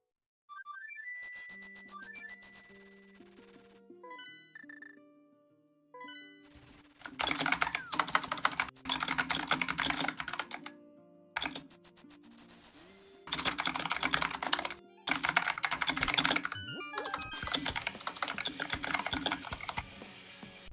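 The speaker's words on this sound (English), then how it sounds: "I'm not typing anything important, trust me." Computer keyboard typing rattles in dense bursts of rapid clicks, close and fairly loud, alternating with quieter stretches where electronic game tones and chimes play.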